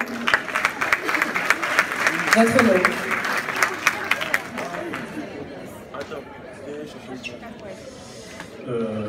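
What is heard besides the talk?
audience applause for an award winner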